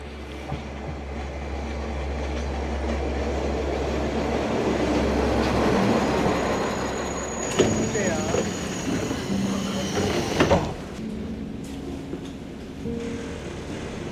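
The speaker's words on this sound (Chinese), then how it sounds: "我们的火车来了" A Japanese local train rumbles into a station with a deep low drone and rattling wheels, then a sharp hiss and clatter as it slows to a halt, with voices around.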